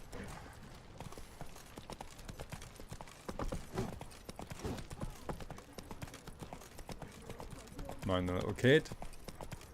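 In the video game Witcher 3, a horse's hooves clip-clop in a quick, steady galloping rhythm close by while someone talks over them.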